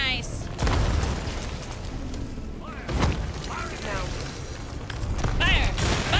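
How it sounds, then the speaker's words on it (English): Bomb blasts in the pirate video game Sea of Thieves, two or three deep booming bursts with sharp onsets over a busy game soundscape, while people talk throughout. "It's a bomb."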